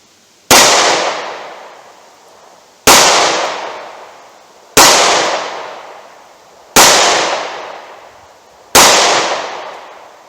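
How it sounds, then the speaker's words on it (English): Handgun firing Winchester Super X +P rounds at a target about 5 yards away, five loud sharp shots spaced roughly two seconds apart, each ringing out and decaying before the next. "Let me toss a couple of rounds at the target and see how they compare in accuracy."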